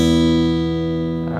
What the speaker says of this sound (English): Getting started with a nice little riff that'll take us into our 12-bar progression.